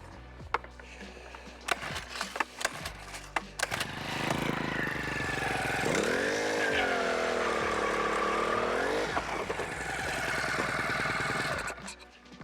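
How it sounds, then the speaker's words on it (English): A gas-powered ice auger boring fishing holes through early-season ice, starting up after a few clunks and whining at high revs for several seconds with a wavering pitch as it bites through, then cutting off. "Okay, let's get some holes drilled."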